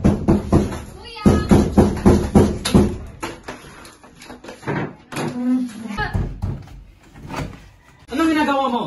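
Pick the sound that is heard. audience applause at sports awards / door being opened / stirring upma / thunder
door being opened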